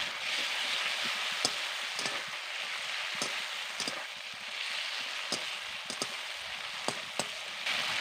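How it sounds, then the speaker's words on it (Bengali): Ginger and garlic fry in hot oil with chopped tomato for a spicy puti fish curry, giving a steady close hiss broken by scattered sharp pops and crackles, with no talking. "এবার আমি সব কিছুকে ভালো করে ভেজে নেব"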